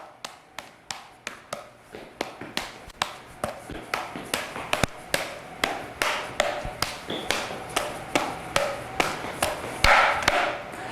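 Four juggling clubs thrown in triples, caught with a steady run of sharp, evenly spaced wooden taps and knocks that repeat rhythmically for about eleven seconds, close and fairly loud with no talking.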